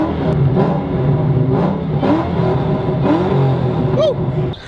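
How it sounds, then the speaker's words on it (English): A Ford SVT Terminator Cobra V8 fitted with new aftermarket headers rumbles steadily up close in cold weather, with a few throttle blips and a voice talking over it. "enjoy the sweet sound of those new headers"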